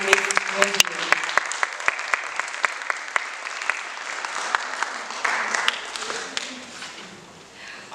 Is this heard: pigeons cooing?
no